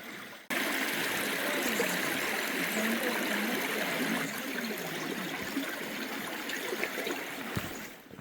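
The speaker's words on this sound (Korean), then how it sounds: "조금 더 올라가면 계곡 물소리가 더욱 커집니다." A mountain valley stream near a temple flows steadily and fairly loudly, its continuous rushing and gurgling water filling the whole scene without any talk.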